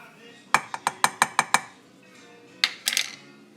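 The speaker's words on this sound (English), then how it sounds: "Get this all stirred in real well." A utensil stirring coleslaw dressing of vegetable oil and sugar in a bowl, a quick run of seven clinking taps followed by a pause and a few more scraping clinks, close and clear.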